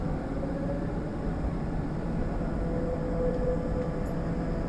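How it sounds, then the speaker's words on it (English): Steady low rumble and whine of an airport monorail train running smoothly along its track, a continuous hum with a faint tonal whir rising slightly toward the end. "Please hold on while the train is moving."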